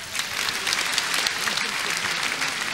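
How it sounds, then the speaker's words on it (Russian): A large crowd at the televised closing ceremony of the New Wave 2003 song contest applauds in a dense, continuous roar of clapping that fills the whole stretch. "Ваши аплодисменты."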